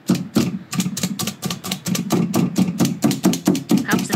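Raw chicken wings stabbed repeatedly with a fork or skewer to tenderize them, a fast run of sharp close taps and thuds about every quarter second, with a voice talking throughout.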